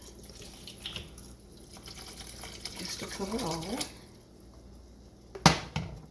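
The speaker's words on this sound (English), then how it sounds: "I'm going to add some water just to cover over" Water streams into a pot of shepherd's pie filling for a few seconds, the pitch rising as it fills, with a voice talking over it and clanks near the end.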